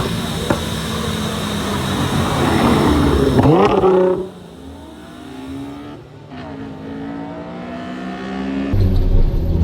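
Nissan GT-R R35 engine accelerating hard from inside the car, a loud rising roar that climbs through the gears, drops away at a shift, then builds again with some cabin chatter.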